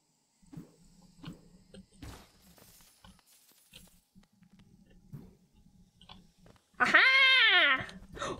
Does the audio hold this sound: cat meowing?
yes